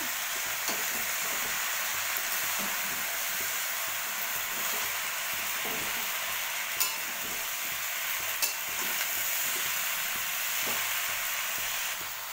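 Malabar spinach being stirred and fried in a pan, a steady, even hiss of frying with occasional faint scrapes and clicks, fairly quiet and without any talk.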